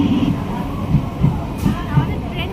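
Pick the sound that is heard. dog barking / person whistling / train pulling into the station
train pulling into the station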